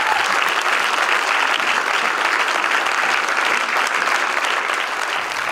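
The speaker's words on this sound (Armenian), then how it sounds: "ծափարեք, շարունակենք։" Audience applause fills a live concert venue, a dense, steady, loud wash of clapping that continues without a break throughout.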